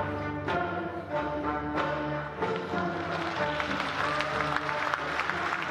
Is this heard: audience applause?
yes